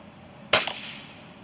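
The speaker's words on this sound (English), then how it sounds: "But we're shooting pumpkins" A Benjamin Armada .25 PCP air rifle fires one sharp, loud crack at pumpkins outdoors, with a brief echoing tail afterward and no voices.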